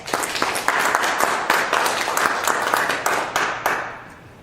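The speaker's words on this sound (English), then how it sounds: "Please give Jamia a round of applause" An audience applauds a student speaker, a dense, sustained wash of many hands clapping at once, loud and close, fading slightly toward the end with no voices over it.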